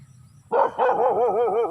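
A dog barks once sharply, then lets out a wavering, whiny howl-like bark, fairly close, after a moment of quiet, outdoors by rice fields in the evening.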